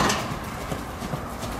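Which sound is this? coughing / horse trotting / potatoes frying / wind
horse trotting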